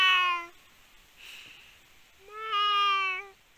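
A child imitates a cat with two drawn-out meows, close and clear, separated by a short pause and a soft breath.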